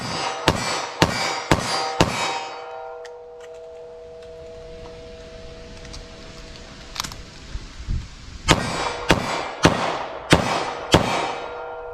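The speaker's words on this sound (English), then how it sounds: "I'll do some shots on target with the 38 Special" A .38 Special +P fired from a short-barrelled revolver at a target cracks out in sharp, loud shots, a quick string of four, a long pause, then five more evenly spaced.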